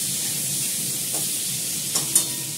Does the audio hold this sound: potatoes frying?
yes